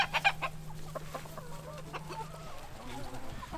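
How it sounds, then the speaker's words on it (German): Hens cluck and cackle in short irregular bursts nearby, with a low steady hum underneath. "So, gucken wir mal, ob unsere Hühner da sind."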